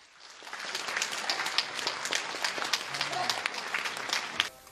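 Audience applauding at a Suzhou pingtan concert of famous performers, a dense steady patter of many hands clapping at moderate level, with murmuring voices mixed underneath.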